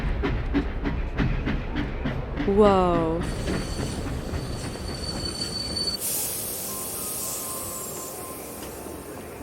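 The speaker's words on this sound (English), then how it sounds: "The train should be here any second now." A train pulls into a station platform in Roblox Bloxburg, with rhythmic clickety-clack, loud screeching wheels and brakes, then a steady hum as it stops; one person briefly exclaims.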